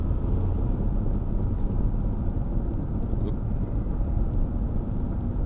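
Steady low rumble inside a moving car, a dense, even road and engine drone that stays constant throughout with no voices.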